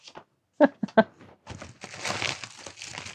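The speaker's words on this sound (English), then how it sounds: "packaging paper." Packaging paper crinkles and rustles close up, a few sharp crackles first, then a longer continuous crumpling as it is unwrapped.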